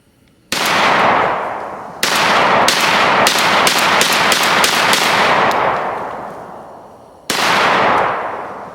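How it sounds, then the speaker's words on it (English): Mossberg 940 JM Pro semi-automatic shotgun fired outdoors: one blast, then a rapid string of about eight loud close shots, and a final shot after a pause, each ringing off with a long decaying tail. "We're just going to go ahead and start shooting because we got a lot to get through today."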